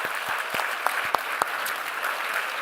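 An audience claps for Beverly D'Angelo at a movie kickoff celebration in Ohio, a steady wash of applause that carries on for a few seconds with a few sharper individual claps standing out.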